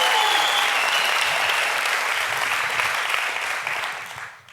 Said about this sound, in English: So let's get a round of applause for that commercial.